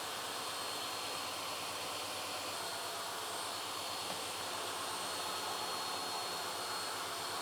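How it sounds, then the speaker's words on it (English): A table saw lowered to about 3 mm of blade height makes repeated shallow cuts in wood, giving a loud, unbroken whine that stays steady throughout, with no voices. "I'm setting the saw blade down to about 3 millimeters of height so I can do repeated cuts to remove the part of wood I don't want."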